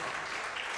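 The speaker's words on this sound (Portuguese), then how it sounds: "E aplaudo o nome dele mais uma vez." Congregation applauding during a Portuguese-language Bible study church service, a steady dense wash of clapping filling the short moment with no talk over it.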